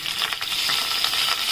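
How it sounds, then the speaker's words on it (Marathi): Curry leaves hit hot oil already holding mustard seeds and cumin for a tempering, giving a bright, close, continuous sizzle and crackle for a brief moment with no talking. "आणि आता आपण ह्याच्यात कढीपत्ता टाकूया,"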